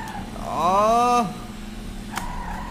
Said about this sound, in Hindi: पूरा आगे एक्सलेटर दे रहा हूँ फिर भी गाड़ी पीछे जा रही है